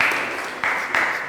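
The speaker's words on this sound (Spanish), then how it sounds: "le damos un fuerte aplauso al doctor, por favor, por su conferencia" Audience applause after a doctor's lecture on Jupiter's atmosphere: a steady wash of clapping from the crowd, fairly close and even, with a couple of sharper bursts partway through.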